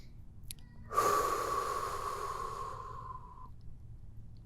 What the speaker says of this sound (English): Keep breathing in, out, at your own pace.